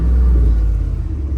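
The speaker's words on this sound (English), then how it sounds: "the exhaust sounds nice as fuck," Deep, heavy exhaust rumble from an idling pickup truck, loud and close, a continuous low throb with slight unsteady pulsing and no speech over it.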